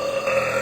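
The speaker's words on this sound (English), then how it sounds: "I am the burping queen." A loud, sustained burp from a woman, one continuous belch with a steady tonal rasp that lasts the whole moment without any talk.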